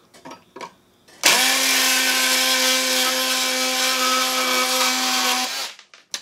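A Black & Decker Matrix power tool cuts steadily through material with a worn-toothed blade, a loud continuous motor whine running about four seconds alone before stopping, after some faint handling knocks.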